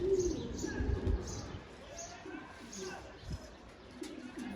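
A young samfır pigeon chick coos softly in a few low, repeated calls, close by, over steady background noise and faint murmuring voices.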